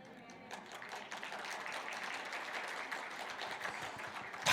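A church congregation applauds after a Sunday sermon: a dense, steady wash of many hands clapping that holds at an even level throughout, with a brief louder burst at the very end.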